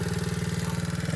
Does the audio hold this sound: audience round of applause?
no